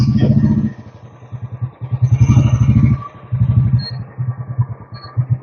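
A Royal Enfield Bullet motorcycle, long unused, fires up and settles into a loud, close single-cylinder thump, its steady pulsing idle rising and dipping in a few surges with brief clatter.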